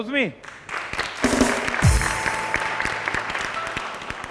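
Studio audience applause on a talk show: scattered clapping swells after a brief voice at the start, then holds as a steady, moderately loud wash of claps.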